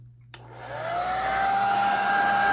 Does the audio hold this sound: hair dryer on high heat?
yes